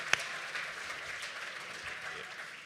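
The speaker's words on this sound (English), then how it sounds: "let's give a round of applause to Ben Crump for leading us, fighting for us" At a National Action Network convention, the audience applauds civil rights attorney Ben Crump. A short burst of fairly faint crowd clapping follows a sharp knock at the start.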